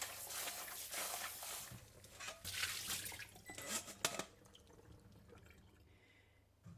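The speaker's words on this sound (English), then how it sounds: "Briefly wash the beans in water." Edamame beans being briefly washed in water, with soft splashing, trickling and dripping, loudest at first and then fading to quiet near the end.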